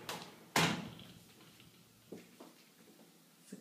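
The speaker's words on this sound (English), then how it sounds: "Glass door." Glass shower door in a Caesar's Palace hotel bathroom sliding shut, with one sharp close thud and a brief rushing glide, then a few faint knocks and rattles in a quiet room.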